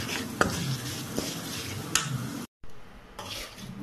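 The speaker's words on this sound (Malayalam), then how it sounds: "എന്നിട്ട് ഇത് നന്നായിട്ട് ഇളക്കി കൊടുക്കാം." A spoon scrapes and stirs turmeric and Kashmiri chilli powder through a cauliflower curry in a pot, with repeated close clatters and a soft sizzle underneath, cut by a brief moment of silence midway.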